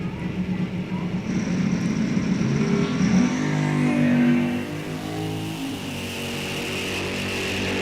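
Box door drag racing car launching hard down the track at a Sizzlin' $7,500s race, a loud rising engine roar that peaks then drops away as the car pulls into the distance, with crowd and track noise around it.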